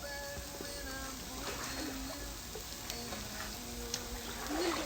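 Seasoned steak frying in a pan sizzles quietly and steadily, with faint crackles and small clinks scattered through the soft hiss.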